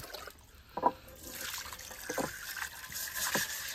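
Water is poured and drained out of a crab during cleaning, giving faint trickling splashes and drips in a few short bursts.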